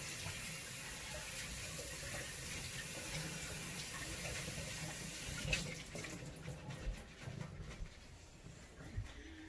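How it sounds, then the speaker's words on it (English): Cold tap water runs steadily over lettuce being rinsed in a sink, a continuous hiss that turns choppier and splashier partway through as the leaves are moved under the stream. "So I'm just going to give these a quick rinse in cold water."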